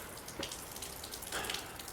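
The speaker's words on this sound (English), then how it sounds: "it's cold and it's raining, and of course there's very leaky gutter" Rain on a cold day pattering and dripping from a very leaky gutter, a steady close wash of drops with brief splashy accents, no voices.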